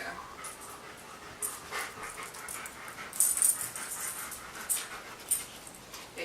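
A dog pants softly in quick, breathy bursts, close by and fairly quiet, with a few faint whimpers and small rattles in between.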